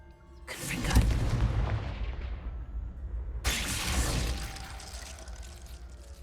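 Two loud blasting spell explosions from the Hogwarts Legacy video game, each hitting with a sharp boom and a long crackling, shattering decay, the second about three seconds after the first.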